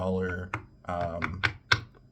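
Tarot cards being shuffled for a reading make a series of sharp, crisp clicks and riffles between and under a person's talking.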